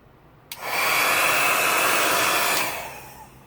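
Hair dryer blowing poured paint across a canvas in a Dutch pour, switching on abruptly and holding a steady loud whir for about two seconds before fading back down.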